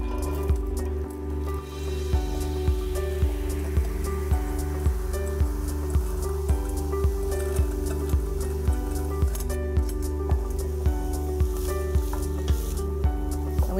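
Chopped onion, peeled carrots and celery cook in rendered meat fat, giving a continuous sizzle beneath a steady, evenly spaced ticking pulse that carries through, with no voices.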